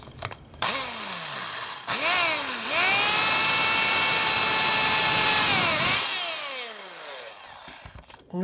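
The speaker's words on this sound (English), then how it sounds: "then we take the drill and then we line it up and then we give it a squeeze" A power drill spins up in several short bursts and then runs in one long, loud, steady whine while boring a hole for an exterior lighting enclosure, before winding back down.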